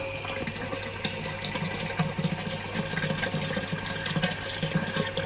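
An electric pump pushes wort into a grant during a home brew of a NEIPA, giving a steady hum under continuous splashing and trickling liquid that runs without a break.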